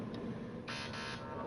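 An alarm buzzer in No Man's Sky sounds twice, a harsh buzzing tone in two back-to-back bursts over a low background hum, fairly faint.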